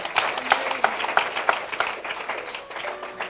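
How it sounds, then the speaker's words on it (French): A church congregation claps during a sermon, a burst of quick hand claps in an uneven rhythm, moderately loud, with some murmured voices mixed in. "clap for yourself"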